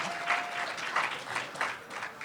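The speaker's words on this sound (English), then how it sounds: "give him a round of applause" An audience at a company welcome gathering claps, a steady patter of applause with a few swells, moderately close and without voices.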